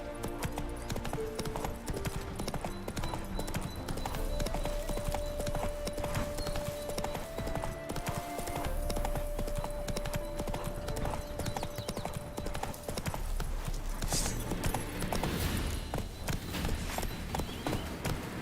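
Roach the horse trots in The Witcher 3, rapid rhythmic hoofbeats clopping steadily and close, with a snort or whinny partway through.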